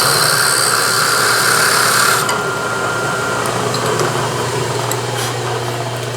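A sheet metal drill bores through a soft pine 2x4, a loud continuous whir that drops slightly in pitch partway through and carries on steadily.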